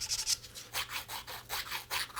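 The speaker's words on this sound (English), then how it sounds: "the reason why I'm jumping to 200 grit sandpaper is because we don't need to take off a lot at all" Wood of a guitar peghead is sanded by hand with 200 grit sandpaper, a close, rhythmic series of soft scratchy rubbing strokes, about six back-and-forth passes with brief pauses between.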